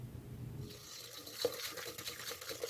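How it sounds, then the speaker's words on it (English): Sugar and oil pour into beaten eggs in a bowl for old-fashioned buttermilk donut batter, a soft, steady granular hiss and trickle that starts after a quiet moment and runs to the end, close and faint. "Then I'm going to add the sugar and the oil."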